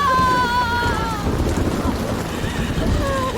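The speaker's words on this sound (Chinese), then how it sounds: "下雨了，老天爷都看不下去了。" Heavy rain pours steadily in a Tang-dynasty martial arts detective film scene, a dense wash of patter under a horse's whinny and voices.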